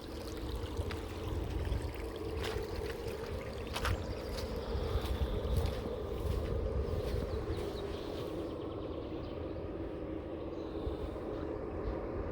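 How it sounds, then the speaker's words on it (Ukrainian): A small stream of water runs from the Dnieper into a lake outdoors, a steady broadband rushing and gurgling under light wind, with occasional faint clicks and no talking. "ручеек цілий пішов. Водичка з Дніпра тікає типа, в озеро."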